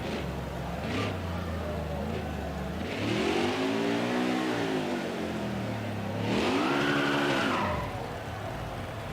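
A NASCAR Truck Series race truck at Martinsville in NASCAR Heat 5 drones along its victory lap, the engine rising and falling in two long revving swells, with faint tire squeal.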